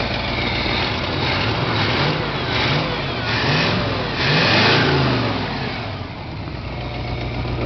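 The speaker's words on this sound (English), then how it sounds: "Rev it up a little bit." A $200 junker plow truck's engine, not burning oil, idles with a low, rumbling drone, then revs up in a few rising surges before settling back, close and loud.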